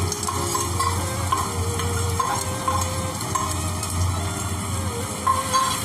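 Garlic paste goes into frying pudina (mint) chicken and is stirred, giving a steady close sizzle with a spoon scraping rhythmically against the pan, with no talking.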